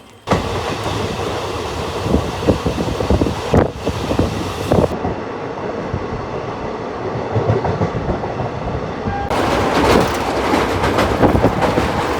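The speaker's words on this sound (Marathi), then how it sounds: "गाड़ी संख्या 2214 Mumbai Chhatrapati Shivaji terminal Bidar express platform number 1 से रवाना होने के लिए तैयार है" The Mumbai CSMT–Bidar Express pulls away from platform 1, a loud steady rumble of wheels and carriages with rhythmic clatter that grows stronger toward the end, buffeted by wind noise on the microphone.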